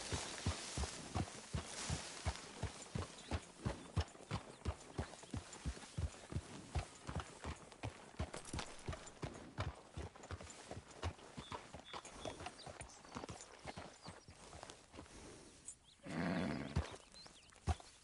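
Horse hooves clip-clop in a steady walking rhythm, a long run of evenly spaced knocks that fade slightly over time, with a brief burst of other noise near the end.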